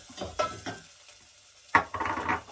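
Small pieces of garlic dropped into a hot pan and stirred, with a few sharp scraping clatters and bursts of sizzling frying, close and moderately loud.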